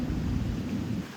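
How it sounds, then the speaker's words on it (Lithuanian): A short, deep rumble of thunder rolls from an approaching storm in the countryside as wind picks up, a steady low roar with no voices. "ateina audra"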